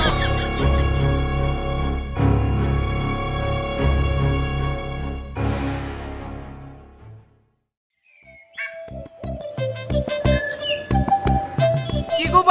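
A bicycle bell rings in quick, bright, repeated trills that start after a short silence and grow louder toward the end, following a stretch of sustained musical tones.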